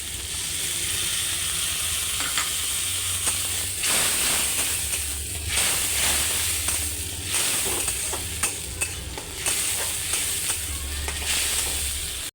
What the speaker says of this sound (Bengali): তারপর খানিকক্ষণ নাড়াচাড়া করার পরে ওতে আপনি টমেটো পেস্টটা অ্যাড করবেন।